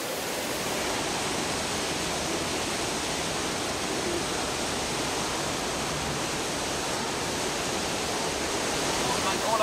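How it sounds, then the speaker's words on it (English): Artificial rain in the Rain Room installation falls as a curtain of water, a steady dense hiss of droplets pattering continuously all around, close and even with no pauses. "the rain is switched on again and creates this curtain of water around you"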